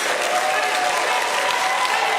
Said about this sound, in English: How about a big round of applause for these candidates?